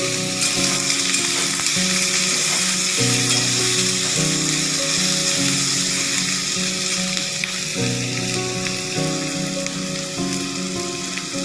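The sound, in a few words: asafoetida and potatoes frying in oil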